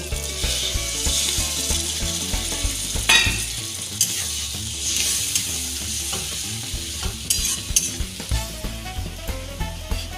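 Water poured into hot garam masala in a pan for an egg curry, bursting into a loud, steady sizzle with stirring and scraping sounds throughout, close and continuous with occasional sharp clatters.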